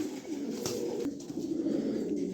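A pair of pigeons, a black female and a tiger-marked male, coo in steady low, throaty murmurs close by, sustained over a faint background hum with no speech.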